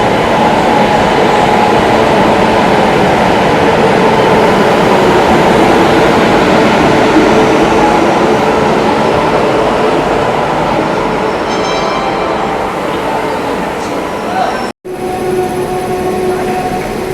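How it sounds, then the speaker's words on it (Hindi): Mahabodhi Express from Gaya to New Delhi pulling into a station in India, a loud continuous rumble of wheels and carriages rolling past close by, steady throughout with a brief dropout near the end. "और इधर अराइवल हो रहा है महाबोधि एक्सप्रेस का, जो कि गया से चलकर न्यू दिल्ली को जाती है।"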